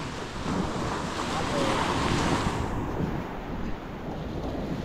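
Strong wind at the sea roars steadily over crashing surf at the shore, a dense, continuous rush of noise with no voices.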